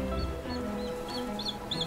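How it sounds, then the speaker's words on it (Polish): Atlantic puffins calling at a seabird colony on Grimsey, Iceland: faint, scattered high chirps and calls rise over a steady rumble of wind and surf, growing a little more frequent toward the end. "To maskonury."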